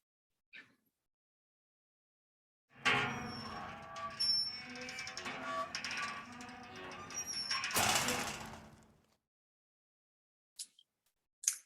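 Slow-moving bridge loop effect from a video game, a mechanical rumbling, grinding drone with faint metallic chimes running several seconds before stopping, followed by a few brief clicks.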